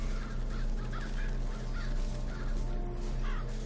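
Crows caw repeatedly in BioShock Infinite, a series of harsh calls spaced about every half second over a dense, steady game soundscape.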